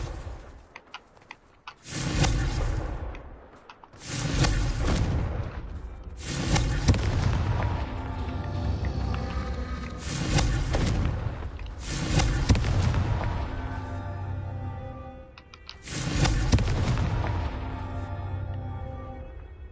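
Fire-spell explosions from the video game Hogwarts Legacy go off in five loud, booming blasts. Each blast rumbles out for about two seconds before the next one.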